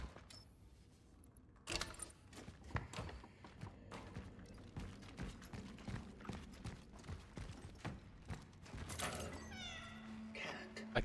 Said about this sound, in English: Cat. A cat.